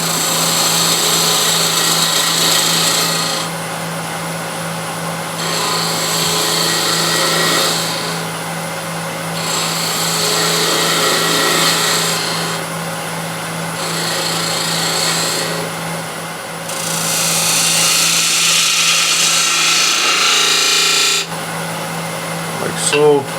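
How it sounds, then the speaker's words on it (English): Skew chisel cutting wood on a spinning lathe, a steady motor hum underneath while bright scraping bursts come and go in repeated passes of a few seconds each, fairly close. "So I'll just use a skew to get this a little bit down."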